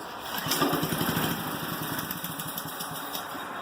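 A Yard Machine lawn mower engine under repair, fitted with a homemade air filter housing, starts up and runs with a rapid, steady small-engine putter close by, loudest just after it catches, then settling into an even idle.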